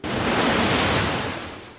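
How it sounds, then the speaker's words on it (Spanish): Wave sounds from a biotronic music system, triggered by a finger dipped in water, swell as a loud, broad rushing surf that fills the short moment and eases off slightly at the end, with no talking. "Anda, pero si tenemos olas."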